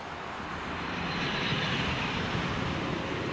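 A maglev train on a guideway in Scotland, heard as a steady, broad whooshing roar at moderate distance, holding evenly and slightly swelling as it powers away.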